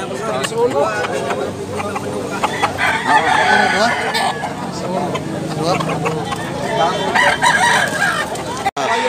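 A Tornado hatch gamecock rooster crows repeatedly, loud and close, amid other clucking fowl and a background of people talking at a market in Tabunok, Cebu.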